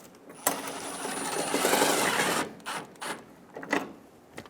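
A bolt is tightened on a bumper bracket of a 2005-2015 Toyota Tacoma, giving a close, continuous mechanical whir that runs for about two seconds and then breaks into a few shorter bursts.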